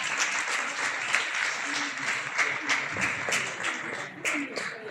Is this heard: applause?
yes